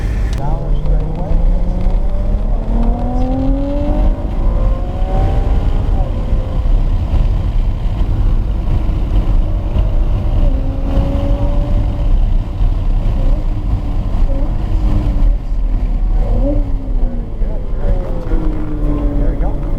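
A race car accelerates on a track, its engine note rising repeatedly in pitch through the gears, loud and close and continuous, under an excited voice.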